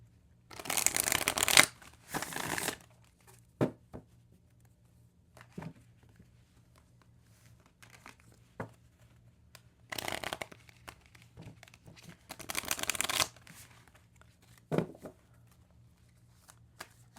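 A deck of energy oracle cards is shuffled in several crisp riffling bursts close by, separated by quiet gaps with light taps and handling.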